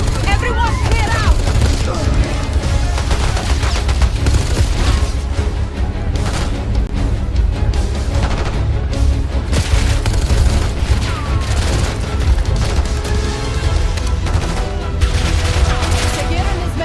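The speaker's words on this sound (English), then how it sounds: "They're shooting! Get down!" Dense, continuous gunfire with booming blasts in Call of Duty Black Ops 6, loud and sustained throughout, with voices shouting over the shooting.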